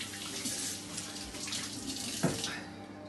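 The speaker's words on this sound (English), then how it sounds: "I'm just going to quickly wash my hands" A kitchen tap runs steadily while hands are washed beneath it, a continuous close water hiss with a brief splash near the end.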